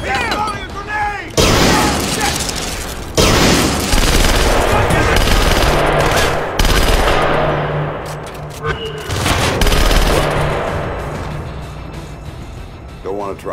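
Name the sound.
grenade explosion and gunfire in video game Splinter Cell: Conviction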